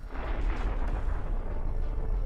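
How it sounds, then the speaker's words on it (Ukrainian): Missile strike on an armored personnel carrier, a dense, sustained roaring blast of explosion noise lasting the whole moment, loud and close with no voices over it. "БТР розлітається на шматки."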